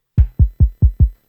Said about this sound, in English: This kick by itself is just a nice, short, punchy kick.